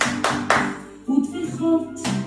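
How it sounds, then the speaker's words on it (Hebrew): Children clap their hands in a nursery class, giving a few short bursts of claps between stretches of singing or voices. "כל הכבוד למחיאות הכפיים."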